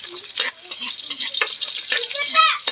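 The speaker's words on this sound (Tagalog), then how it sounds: "So, add natin yung ating onions." Onions sautéing in a hot pan for blue marlin tinola, a steady close sizzle with stirring scrapes and bursts of crackle, some faint voice-like sounds mixed in.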